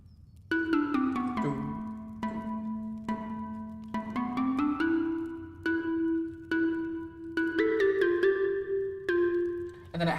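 Synth chorus melody of short plucked notes stepping over a low sustained tone, moderately quiet, a dozen or so notes in a loose rhythm with no talking.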